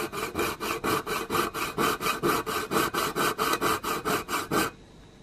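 A coping saw cutting through a metal can, with the can turned against the blade: a steady run of about twenty rhythmic rasping strokes, close and loud, stopping abruptly near the end.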